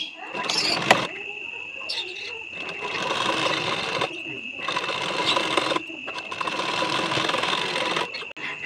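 Sewing machine stitching a blouse, close and whirring in several long runs separated by short pauses, with clicks and mechanical knocks between runs.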